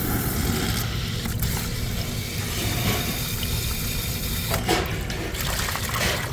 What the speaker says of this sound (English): it feels cold water coming out of it now